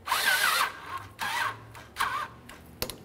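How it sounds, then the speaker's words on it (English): Hose clamp being tightened on the radiator hose of a 2002-2005 Ford Explorer, heard as four short close bursts of mechanical whirring or ratcheting, each under a second, separated by brief pauses and ending with a sharp click. "let's tighten up this clamp"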